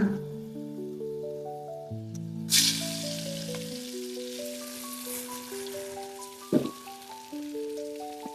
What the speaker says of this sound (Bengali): কাজু বাদামটা ভাজা হয়ে গেছে এখন দিয়ে দেবো চাল